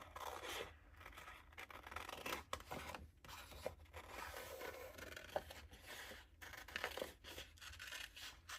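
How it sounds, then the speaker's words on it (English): Scissors cutting small paper pieces from a craft kit, quiet close snips and rustling paper scrapes repeating irregularly, soft and faint. "So I'm just going to cut some of them out."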